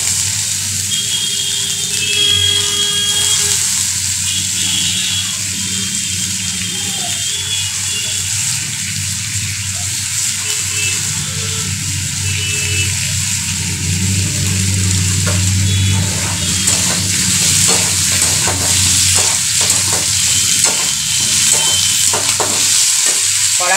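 A red chili frying in a pan, giving a loud, steady hissing sizzle with oily crackle that holds throughout, with faint clatter of stirring in the background.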